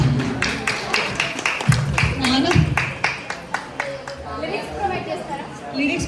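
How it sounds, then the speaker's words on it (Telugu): A group claps their hands in a steady rhythm at a baby shower celebration, the sharp repeated claps sounding close amid lively chatter and voices. "క్లాప్స్ కొట్టండి"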